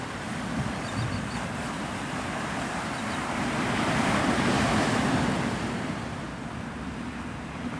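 Surf breaking on Pensacola Beach, Florida: a steady, broad wash of waves with continuous rumble and hiss, swelling slightly louder midway, with some wind buffeting the microphone and no voices.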